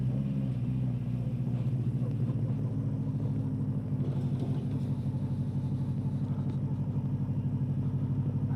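A 1975 Honda 400 Four motorcycle engine holds low revs while riding, giving a smooth, steady, even rumble close by and fairly quiet throughout.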